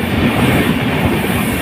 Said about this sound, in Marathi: बोगद्यातनं गाडी बाहेर आली बघताय आपण